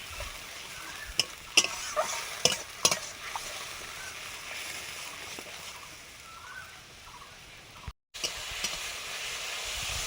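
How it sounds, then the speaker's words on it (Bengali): Onion frying gently over low heat in a pan, with a steady soft sizzle and a few sharp scraping clicks from stirring early on, then a quieter continuous fry. "পেঁয়াজটা ভালো করে ভাজতে হবে, হালকা জ্বালানিতে ভালো করে ভেজে নিতে হবে"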